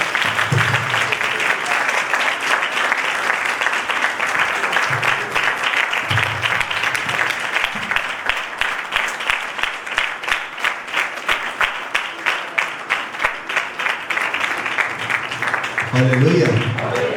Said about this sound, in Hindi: तालियों के साथ परमेश्वर का दास का स्वागत करें